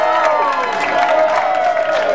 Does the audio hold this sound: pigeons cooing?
no